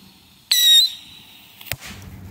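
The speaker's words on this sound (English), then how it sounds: "All right, guys, bottle rocket underground." A bottle rocket firework buried in loose dirt gives a sharp, whistling hiss lasting a fraction of a second, then a single close pop a second later, with quiet outdoor background around it.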